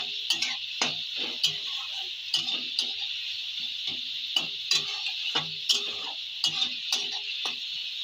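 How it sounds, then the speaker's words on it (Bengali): Small chuno fish being stirred with salt in a pan: sharp, repeated scrapes and clinks of a utensil in an irregular rhythm over a steady bright hiss of oil, close and without talk. "আবার নেড়ে চেড়ে দেবো।"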